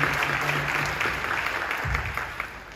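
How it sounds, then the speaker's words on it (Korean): A church congregation claps in encouragement during a worship service, a moderate, steady round of applause with a low hum and faint background sounds running beneath it. "우리 박수로 격려해 주시기 바랍니다."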